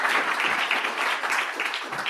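A conference audience at a session on union renewal in Europe keeps up a full round of applause, many hands clapping in a thick, even wash with small swells.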